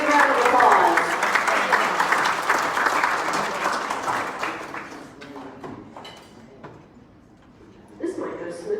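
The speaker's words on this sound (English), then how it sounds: "Give them a big round of applause." Audience applause at a Rotary Club annual awards and officer installation, a dense burst of clapping from a room of people that swells early, then thins out and fades, with a voice speaking near the end.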